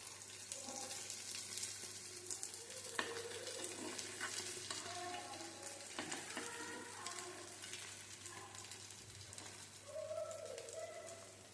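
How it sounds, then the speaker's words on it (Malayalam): Mini shawarma unniyappam balls fry in oil in a pan with a steady, close sizzle and crackle throughout, with occasional faint clinks and no talking. "നമുക്ക് ചീനച്ചട്ടിയിൽ ഓയിൽ ഒഴിച്ചിട്ട് നല്ലോണം ഒന്ന് വേവിച്ചെടുക്കാം"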